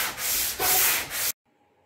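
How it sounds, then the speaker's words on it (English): Close, rhythmic rasping of a sanding board scrubbing back and forth across a countertop seam in three strokes, then silence. "So now I'm just using my sanding board"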